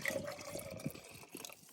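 Leftover red wine pours from a container into pasta sauce at a campsite camp oven: a faint, brief liquid trickle and glug, close by, with no voices.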